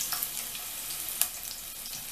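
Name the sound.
chopped garlic and green chilli sizzling in frying oil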